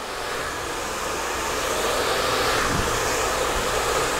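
A hair dryer blows hot air steadily at the hair roots during a wavy blow-dry, a continuous close broadband whoosh with no talking.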